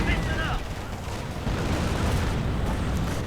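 Artillery fire rumbles through a World War II strategy game battle, a continuous low booming barrage with layered distant blasts and crackle, sustained throughout under steady battle noise.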